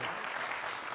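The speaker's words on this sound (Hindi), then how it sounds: "तालियां।" Audience applause at a Hindi political debate, a dense continuous burst of many hands clapping at once, loud and close throughout the short moment with no voices standing out.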